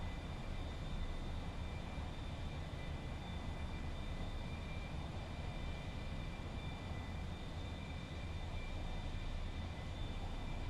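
Airplane engine at full throttle on a landing approach in a flight simulator game: a steady, unbroken loud drone with a constant high whine on top, alone without speech.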